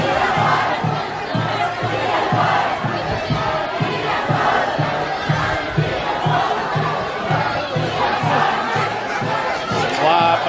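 A large protest crowd fills Luisenplatz in central Darmstadt, with sustained chanting in a repeated rhythmic pattern and a dense wash of voices heard from within the crowd.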